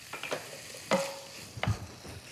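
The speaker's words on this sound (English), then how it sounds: "Stir my bacon" Bacon frying in a pan is stirred, with a few scraping strokes over a soft sizzle, close by and with no talk.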